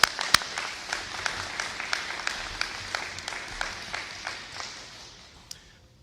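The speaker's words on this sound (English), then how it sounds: "Let's give them all a round of applause." An audience at an Illinois governor's bill-signing ceremony applauds wounded warriors from the Illinois National Guard, with distinct, fairly regular sharp claps standing out over softer clapping and tapering away over several seconds.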